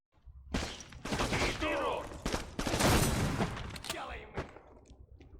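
Dense bursts of gunfire and explosive blasts erupt from the shooter video game Black, loud and close, in rapid volleys with brief gaps between them.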